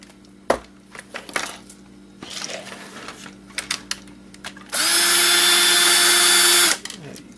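A power drill whines in one loud, sustained burst of about two seconds while backing out small screws, with scattered handling clicks and knocks before it.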